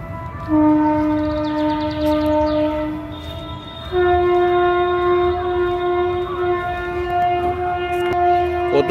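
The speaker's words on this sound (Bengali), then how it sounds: "ওই সামনে স্টেশনের ইঞ্জিনের আওয়াজ আসছে ট্রেন গাড়ির।" A train engine near a station, sounding a long, loud sustained horn that holds one steady tone, breaks, then resumes on a higher pitch over a low rumble, close by and with no talk.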